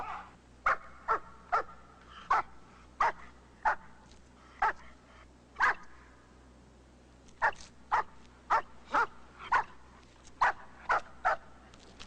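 A dog in the police film K-9 barks repeatedly in sharp, evenly spaced single barks over about twelve seconds, fairly close, with a low steady hum beneath.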